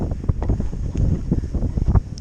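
Strong wind gusts buffet the microphone on a snowy winter fell beside Stickle Tarn, a loud, continuous low roar with uneven surges and no voices.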